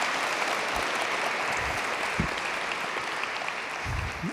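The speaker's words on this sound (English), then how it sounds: "Another round of applause." Audience applause after a poetry reading and conversation event, a steady dense clapping wash lasting the whole stretch at even loudness, with no voices over it.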